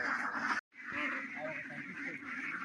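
Farmed ducks quack and honk in a dense, continuous chorus by a pond, with a brief gap near the start, heard at moderate level as a flock rather than single calls.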